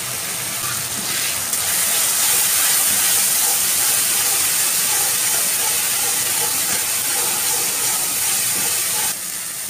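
Kashmiri chili powder and turmeric hit hot oil in a pan of cooked-down curry masala, giving a loud, continuous, close sizzling hiss that holds steady for about nine seconds and then drops slightly.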